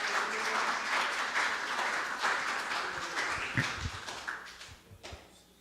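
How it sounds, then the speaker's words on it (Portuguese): A church congregation applauds steadily, the clapping dense and sustained before gradually thinning out and fading toward the end. "vamos dar uma salva de palmas para o Senhor"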